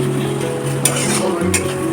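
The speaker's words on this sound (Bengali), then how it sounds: "এইটা মশলা কষা হচ্ছে।" Masala spice paste being stir-fried in a pan, giving a steady loud sizzle with a couple of scraping stirs of a utensil against the pan, close and continuous, with no talking.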